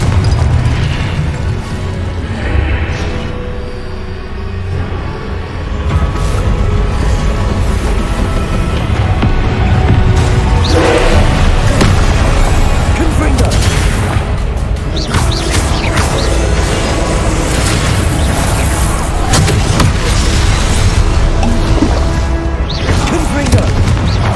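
Spell blasts from Hogwarts Legacy gameplay, with repeated bursts, booms and crashes of casting and impacts layered over continuous loud game music and effects, while a voice calls out spell names throughout.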